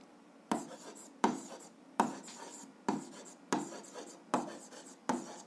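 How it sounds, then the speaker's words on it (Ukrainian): A pen scratches on paper while answers to an algebra exercise are written out, giving seven evenly spaced bursts of scribbling, each with a firm stroke onset, close and clear, with no voices. "пишемо відповідь"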